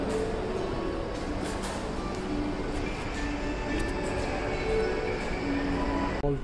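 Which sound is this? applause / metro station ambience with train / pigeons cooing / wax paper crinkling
metro station ambience with train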